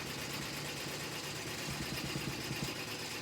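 A 15-needle embroidery machine stitching out an applique runs with a steady mechanical whir and rapid rhythmic needle clatter, close and continuous with no talking.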